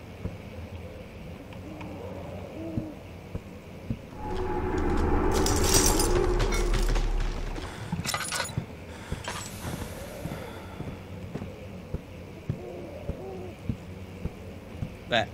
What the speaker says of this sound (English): That owl is a nice touch.